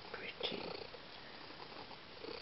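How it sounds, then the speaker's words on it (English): A small cat purring close by at night, a soft continuous rumbling texture with a faint brief squeak near the start, quiet overall with no clear talk. "Loud purrs."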